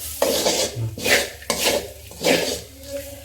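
Grated coconut is dry-roasted and stirred in a pan over medium heat, with a few rhythmic scraping strokes of a spoon across the pan's surface, close up and with no voices.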